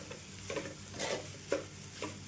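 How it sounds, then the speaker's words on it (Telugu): Egg Maggi noodles with onions being stirred in a pan over medium flame, giving a few soft scraping strokes roughly every half second over a steady low sizzle, close and fairly quiet. "ఇప్పుడైతే ఈ మొత్తాన్ని కూడా ఒకసారి కలిపేసుకుందాం"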